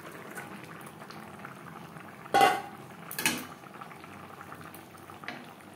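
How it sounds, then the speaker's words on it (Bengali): Ridge gourd simmering in a curry gravy bubbles softly and steadily, with two sharper clatters of a pot or utensil partway through. "2-3 মিনিট গ্রেভির সাথে ধুনুল বেশ ভালো করে ফুটিয়ে নেব"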